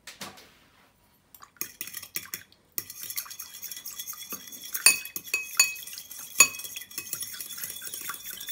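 A metal utensil stirs and scrapes inside a bowl of cream and gelatin for tiramisu, giving irregular clinks and taps, sparse at first and then busier and louder, with a few sharp knocks.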